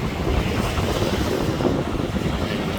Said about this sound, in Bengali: অনেক বাতাস চলতেছে সাগর পাড়ে।